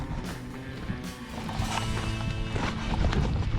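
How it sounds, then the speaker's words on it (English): Horses walk along a path near Dunkery Beacon in Somerset, their hooves clip-clopping in an uneven, fairly close rhythm over moderate background noise. "Horses."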